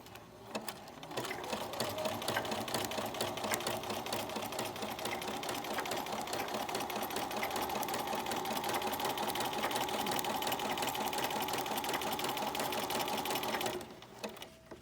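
A sewing machine stitches a fabric sample in a steady, fast, continuous whir with a rhythmic needle chatter, running close and unbroken for nearly the whole stretch before stopping abruptly at the end.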